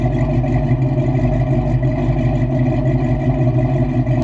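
A Foxbody Ford Mustang idles steadily at close range, a smooth, continuous low engine rumble holding an even pitch without revving or talk.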